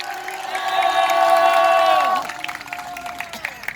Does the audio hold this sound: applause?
yes